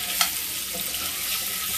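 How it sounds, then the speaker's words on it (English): Kielbasa sausage browns in a pot, giving a steady, close frying sizzle that carries on without pause, with a brief clatter near the start. "Our kielbasa is getting nice and brown."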